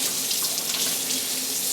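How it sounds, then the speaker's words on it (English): Tap water runs steadily over a Japanese sharpening water stone being rinsed at a sink, a continuous close splashing hiss with no talk. "I'm going to rinse this stone off."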